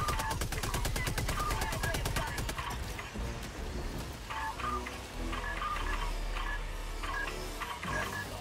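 Rapid automatic fire from a sentry gun in Helldivers 2, a fast regular rattle of shots, then scattered bursts among game effects, with voices talking over it.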